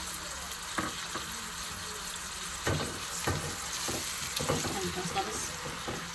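Chopped onion sizzles gently in a pan for aloo methi, a soft continuous fry with occasional stirring scrapes and clinks, fairly quiet and close.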